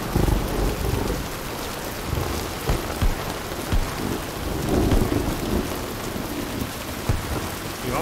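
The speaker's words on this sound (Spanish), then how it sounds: "Tormenta con rayos, me mola el ambiente." A thunderstorm in a forest in the game Battlebit brings heavy rain hissing on surfaces, with thunder rumbling and cracking at intervals throughout, loud and immersive, without any talking.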